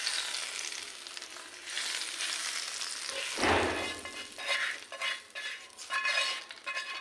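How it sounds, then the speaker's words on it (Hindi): Hot oil sizzles and crackles as tempering spices hit the pan for an eggplant and chicken kebab dish, a sharp burst of frying around the middle, then an uneven spitting hiss with faint clinks. "उसमें मैं इसका तड़का लगा दूंगी।"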